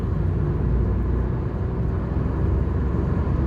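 Hyundai i20 N Line with manual gearbox pulling in 5th gear, a steady low engine drone and road rumble that holds at an even level throughout, no voices.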